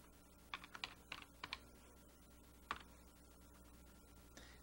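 A child types a letter on a computer keyboard in a quiet room, with scattered clusters of soft key presses separated by pauses and one sharper isolated tap.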